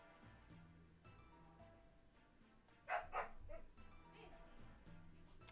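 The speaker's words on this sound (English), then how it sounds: "my dogs are barking and saying hello" Dogs give a couple of quick barks in the background, followed by a few fainter yips, under a quiet room tone with low talk.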